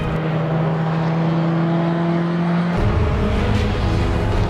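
A race car in an endurance race driven hard around the track, its engine drone holding a steady pitch and then dropping abruptly as the car shifts or passes, loud and continuous throughout.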